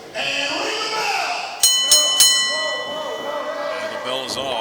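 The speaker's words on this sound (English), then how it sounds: "And ring the bell!" A wrestling ring bell rung at a pro wrestling event, three sharp metallic clangs in quick succession ringing out over a noisy crowd and talk.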